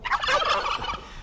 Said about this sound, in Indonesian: Persis seperti kalkun.